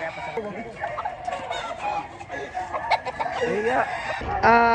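Gamecocks offered at a fighting-cock sale in Padre Garcia cluck and crow in short bursts, layered over steady crowd noise and people talking nearby.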